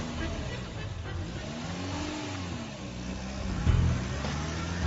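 A car engine revs and pulls away as a radio-drama sound effect, a steady mid-range motor drone that rises and shifts pitch, fairly close and continuous throughout.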